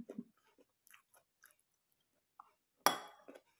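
Crunchy carrots being bitten and chewed up close, a few soft crunching bites followed by one louder, sharp crunch, with quiet gaps between them.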